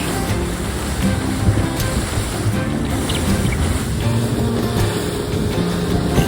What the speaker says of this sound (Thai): เพื่อนๆฟังเสียงบรรยากาศคลื่นจริงจากคลิปวิดีโอครับ